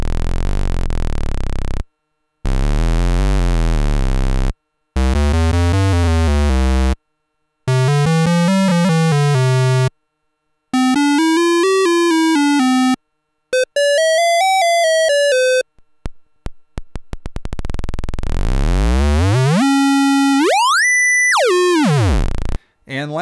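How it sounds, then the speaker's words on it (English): Sputnik Modular oscillator's sub-oscillator output playing a series of synth tones, each burst separated by short silences, with pitches sweeping and wobbling, ending in rising and falling glides and a dense buzzy run; loud, alone, no voices. "And next up is the sub-oscillator output."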